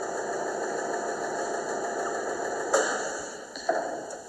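A Tongil TIPL-5 engine lathe with hardened and ground bedways turns at a low 33 RPM, giving a steady faint mechanical hum with a couple of brief clanks near the end.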